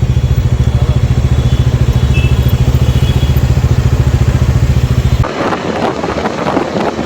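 A motorcycle engine throbs loudly and rhythmically up close, then cuts to rougher wind-blown road noise near the end.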